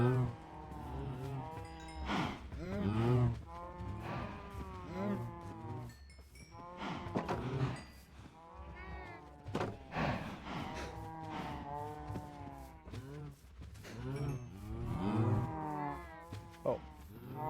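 Cows moo repeatedly in a farming video game, several long drawn-out calls overlapping in a loud, steady sequence with no clear talk over them.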